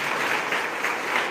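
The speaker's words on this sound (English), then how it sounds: "may I request students to give 1 minute, the loudest applause ever given in any part of the world, in any gathering, to Hanzie" Students applaud loudly at a book launch event, a steady dense wash of clapping that fills the whole short stretch without a break.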